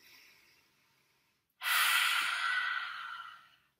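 One faint breath fades out, then after a pause a deep, loud inhale draws in through the nose for about two seconds during standing yoga breathing, close and alone.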